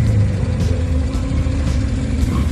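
A first-series Matra-Simca Bagheera classic car at a vintage car rally in the Tuscan countryside gives a steady, close, loud engine rumble, idling deep and even throughout with no voices.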